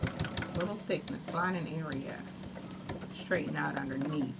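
A sewing machine stitches a clutch wallet with its lining, whirring in short bursts close by while someone talks over it.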